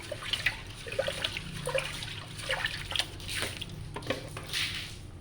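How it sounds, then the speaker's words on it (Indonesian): Rice being washed by swirling it around in water before pressure cooking, a wet sloshing and trickling close by, with soft grainy squishes and drips coming in irregular bursts. "Nah, ketika airnya sudah cukup, kita cuci berasnya. Kita putar-putar seperti itu ya teman-teman."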